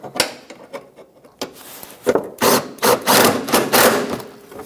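Tightening a bolt through the front bumper cover bracket on a 2008-2012 Jeep Liberty: a run of close, sharp metallic clicks and ratcheting bursts, loud and irregular, with no talk.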